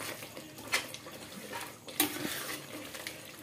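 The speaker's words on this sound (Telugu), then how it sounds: "ఇప్పుడు మనం ఒక్కసారి మళ్ళీ కలిపేసేసుకుందాం." Stirring chicken curry gravy in a pan, with soft scraping and clinking of a spoon against the pan in irregular strokes over a faint sizzle, close and moderately loud, no talking.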